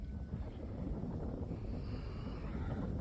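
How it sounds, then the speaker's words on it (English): Cold wind blowing beside a railway track on a chilly day, a faint, steady low rumble of gusting air buffeting the microphone, with no voices. "This wind is cold."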